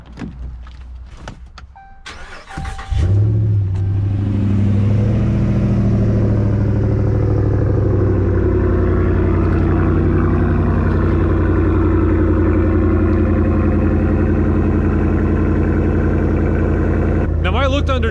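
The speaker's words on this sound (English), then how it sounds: "I'd have to confirm with someone who knows Ram if that's what the exhaust sounds like on a Rebel." A Ram Rebel pickup's V8 engine cranks and catches after a few seconds of clatter and handling noise, then settles into a loud, steady deep exhaust idle up close, with a brief revving burst near the end.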